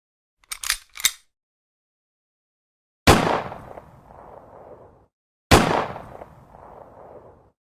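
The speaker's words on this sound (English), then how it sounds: "Fight, fight, fight, yelled the Donald when the bullets grazed by his head." Gunshots as a sound effect: two quick cracks close together, then two louder blasts several seconds apart, each trailing a ringing echo, isolated against silence.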